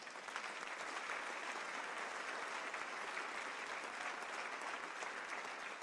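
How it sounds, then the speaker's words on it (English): Steady applause from an audience at a jazz benefit event, a faint, even wash of clapping heard from a distance without pause. "please a round of applause"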